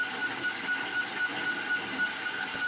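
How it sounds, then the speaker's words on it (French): A steady mechanical hum and whir from a running Snapmaker 2.0 3D printer and its power supply with a thin high whine, continuous and close, with no talking. "L'alimentation et la machine font du bruit."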